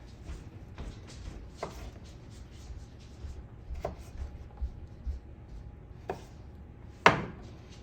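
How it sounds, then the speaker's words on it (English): A knife chops onions and potatoes on a board in an outdoor camp setting, giving a series of quiet, irregular taps and knocks with one sharper strike near the end. "You all have watched me cut up onions and potatoes."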